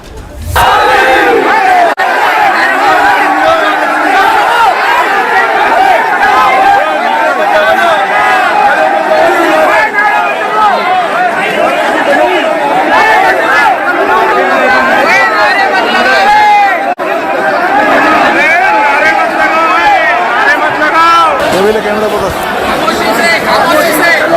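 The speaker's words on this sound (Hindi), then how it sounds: "हजारों की भीड़ के बीच में मौजूद कुछ लोग बार बार उकसाने वाला नारा लगाने वालों को टोक रहे थे" A huge protest crowd of thousands roars continuously with chanted provocative slogans and overlapping shouting voices, loud, dense and close, sustained without pause for the whole stretch.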